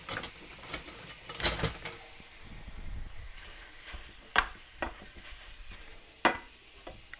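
Sizzling of one pound of ground beef browning in a frying pan, a steady hiss broken by several sharp scrapes and clacks of stirring, at close range with no voices.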